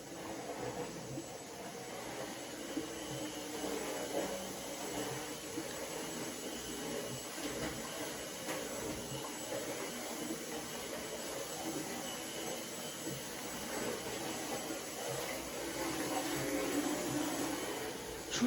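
A steady, droning vacuum cleaner runs throughout at moderate volume, a continuous broadband whir with no pauses.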